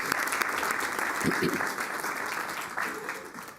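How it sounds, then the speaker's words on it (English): People at a city council meeting applaud in a steady, full round of clapping that holds at an even level throughout, with a few voices mixed in. "we ought to have a round of applause for Women's History Month and our women leaders"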